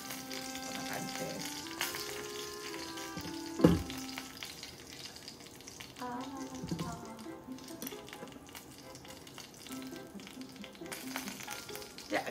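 Bacon spring rolls deep-fry in hot oil, producing a soft continuous bubbling sizzle with occasional clatter and a sharp knock near the start, heard without any talking.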